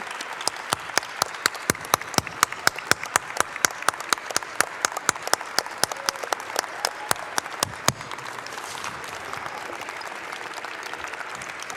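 An audience at a Martin Luther King Jr. celebration claps in crisp, rapid, evenly spaced bursts that fade into softer, scattered applause and room murmur toward the end.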